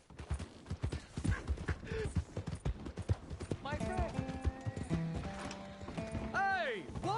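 Horse hooves clip-clop steadily in Red Dead Redemption 2, a close, rhythmic clatter of many quick hoofbeats, followed by in-game voices speaking over the horse as the gait slows.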